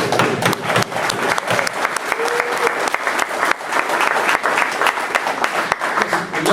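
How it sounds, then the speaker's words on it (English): A large audience at a Hall of Fame ceremony breaks into sustained applause, a loud, dense wash of clapping that continues without pause, with occasional cheers mixed in. "I want all of us to give a great round of applause"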